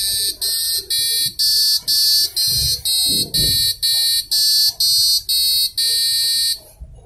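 Piercing electronic alarm beeps from an Arduino buzzer repeat rhythmically and loudly, about two per second, with soft handling noises beneath before it stops.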